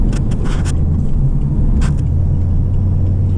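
A 2012 Chevrolet Caprice PPV police sedan with paddle shifters driving, a loud, steady low engine rumble from inside the cabin with a few brief clicks, no clear rise and fall marking a gear change.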